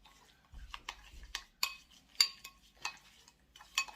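A spoon stirs sugar into a homemade face scrub in a bowl, giving soft, irregular scraping and light clinks, close and quiet with no talking.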